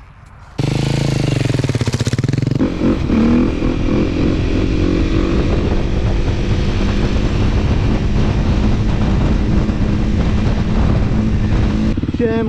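A motorcycle engine runs up close and loud, a sharp start after a quiet moment, then a continuous rough drone that revs briefly early on and settles into a steady idle-like throb until it cuts off at the end.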